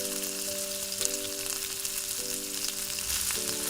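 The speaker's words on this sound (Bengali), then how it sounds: "এবার কাঁচা লঙ্কাটা একটু নাড়াচাড়া হয়ে গেলে" Chopped green chillies and ginger sizzle steadily in a pan for chilli chicken, with a continuous crackling fry under a sustained musical tone in the background.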